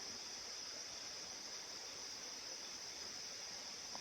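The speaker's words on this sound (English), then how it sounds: "You can hear the creek." Steady, soft rushing of a creek flowing, a continuous even wash of water noise with no voices.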